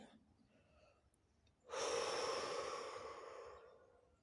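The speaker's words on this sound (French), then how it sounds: "on prend une grande inspiration et on lâche tout" After a quiet pause, a person takes a slow deep breath in and then lets out a long, loud exhale that fades away, heard close up and alone.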